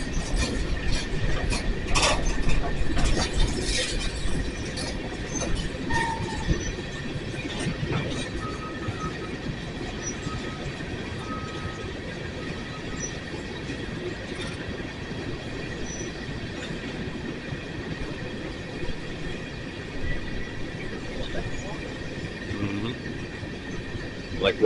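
An empty coal freight train slows onto a second track. A continuous rumble of rolling wagons is heard from nearby, with scattered clanks of slack action and faint wheel squeals, louder at the start and then settling to a steady roll.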